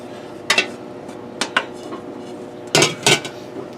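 Ground meat being stirred back into a pot for a lasagna meat sauce: scattered metal spoon clinks and scrapes against the pot, a few sharp knocks in two clusters, close and alone.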